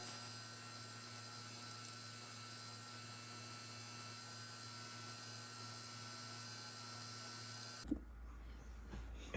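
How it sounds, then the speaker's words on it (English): Polishing motor running to finish the edges of an antique platinum ring, giving a steady close electrical hum that holds evenly, then cuts off shortly before the end. "So we're gonna polish up these edges and make it look all pretty."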